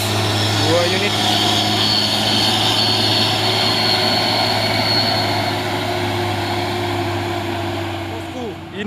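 A loaded Hino tronton truck's diesel engine roars steadily on an uphill climb at Bukit Kodok, a heavy sustained drone with a few brief voices over it.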